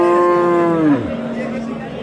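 A pregnant cow moos once at a busy livestock market, a loud, drawn-out low call lasting about a second before fading into the background murmur of the crowd.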